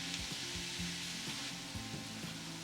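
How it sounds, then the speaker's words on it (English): Chopped garlic, rosemary and thyme sauté in olive oil with a steady, even sizzle throughout, while a low, wavering tonal hum runs underneath. "we're going to toss in the chopped garlic, rosemary and thyme and saute it till they turn aromatic"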